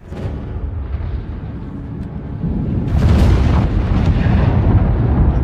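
A huge explosion at a nuclear facility in a film rolls out as a loud, continuous roaring rumble. It swells into a heavier, crackling blast midway and stays dense to the end.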